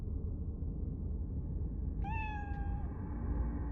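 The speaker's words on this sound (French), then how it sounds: "un chat. J'adore les chats." A single cat meows once, a clear drawn-out cry of under a second, heard over a steady low rumbling background with no talk.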